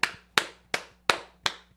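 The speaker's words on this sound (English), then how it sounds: "I feel weird clapping for myself" Five sharp, single hand claps by one person on a talk show, spaced evenly about a third of a second apart, close and crisp with quick decay.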